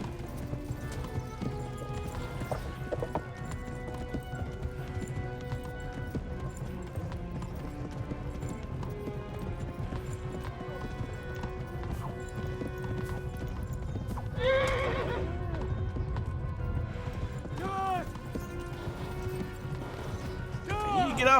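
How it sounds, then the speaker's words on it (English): Horse hooves clip-clopping in a steady rhythm with a couple of whinnies in the video game Kingdom Come: Deliverance, under game music and a voice talking over the gameplay. "I need to get off my horse."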